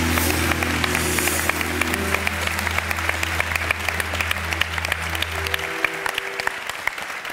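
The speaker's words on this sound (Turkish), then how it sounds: "Büyük alkış alalım." A studio audience on a Turkish TV talk show breaks into loud, sustained applause, with a low music bed under the clapping that drops out near the end.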